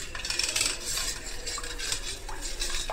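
A spoon stirs a dahi vada batter mixture in a bowl, making quick, close metallic clinks and scrapes against the bowl in an uneven rhythm, with no talking.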